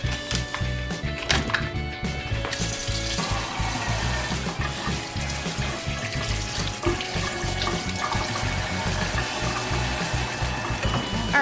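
Tap water runs steadily into a sink as an apple and celery are washed for homemade celery juice, a close, continuous splashing rush with a few knocks of produce under the stream.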